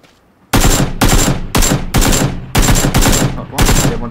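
Gunfire in the video game PUBG: seven loud, evenly spaced bursts of automatic fire follow a brief quiet start, each a harsh crack with a ringing tail, close and dominant.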